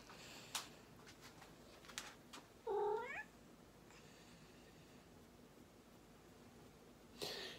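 A cat gives a single short, rising meow in a quiet room, with a few faint knocks and rustles around it.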